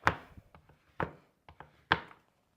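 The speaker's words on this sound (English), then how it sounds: "into chunky pieces and just keep going until I get it all chopped up" A knife chops a block of chocolate into chunky pieces on a cutting board, three firm, close thuds about a second apart with lighter taps between them.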